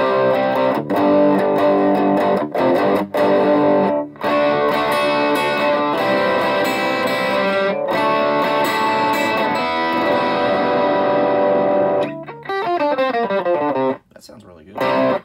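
A distorted electric guitar plays crunchy chords and riffs through a Mesa Rectoverb 25 combo amplifier on its pushed channel, loud and sustained, with brief pauses between phrases.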